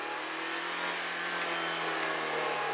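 A 2015 Toyota Yaris engine hums and rises in pitch as it accelerates, a smooth steady tone heard from inside or close by.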